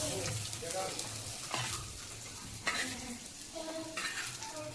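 Fish fillets frying in a pan, turned to cook on one side, with a steady close sizzle and stirring scrapes. A voice talks lightly over the frying.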